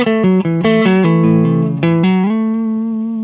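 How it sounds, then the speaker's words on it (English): Clean electric guitar run through a compressor pedal, playing a short melodic phrase of evenly leveled notes that ring out smoothly, ending on a sustained, slowly fading chord; loud and close, with no talking. "it turns up your guitar when you're quiet and it turns it down when you're loud, essentially compressing your signal"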